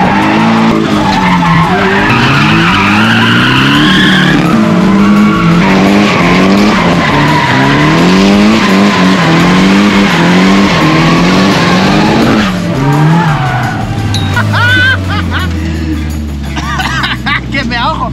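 A Nissan S14 drifts with long, loud tire squeals that rise and fall in waves as the engine revs hard, then the squeal fades into engine roar and a slowing rumble, with some voices in the background.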